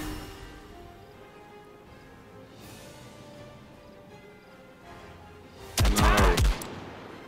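Enemy gunfire in Classified: France '44 cracks out as a sudden loud burst of several rapid shots near the end, after a quiet stretch with a single shout.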